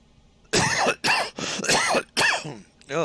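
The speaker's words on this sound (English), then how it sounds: "sorry for coughing in your ears like that, folks" A person coughs close by in a rapid run of about five harsh, loud coughs, each followed by a short pause, with no talk over them.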